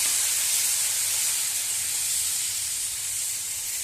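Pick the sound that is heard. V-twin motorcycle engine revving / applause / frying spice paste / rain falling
frying spice paste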